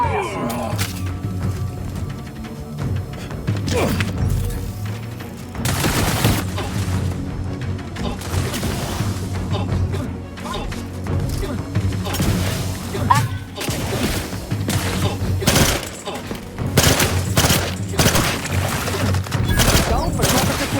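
Rapid bursts of gunfire and booming shots from a firefight in the video game Outer Worlds 2, loud and continuous throughout with dense, overlapping volleys and occasional heavier thuds, with voices speaking under the combat.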